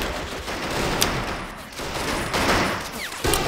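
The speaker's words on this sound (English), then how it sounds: "there's just explosions everywhere, guys" Battle sounds from the Men of War Assault Squad game, with rapid bursts of gunfire and explosions in a town. Sharp cracks and thuds ring out over a constant rumbling din with no clear voices.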